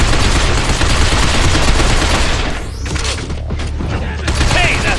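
Dense, continuous gunfire from the shooter game Binary Domain, loud and sustained across the whole stretch with a brief dip midway, overlapping game sound and shouted voices in the mix.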